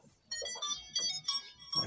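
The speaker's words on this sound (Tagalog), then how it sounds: "Tunod yung cellphone ni Ate Helen" A cellphone ringing with a bright, melodic electronic ringtone, its tune of rising and falling notes playing quietly in the room.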